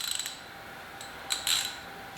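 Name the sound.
tightening the bolts on a dog kennel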